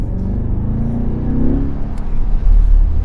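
A C8 Corvette engine hums low and builds as the car pulls away, the rumble growing louder toward the end, heard from inside the cabin.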